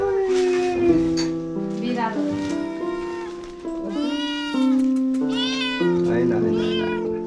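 A series of loud, wavering meows from a cat that recently gave birth to kittens at a home in Kathmandu, Nepal. The cries come close together over several seconds, with some voices mixed in.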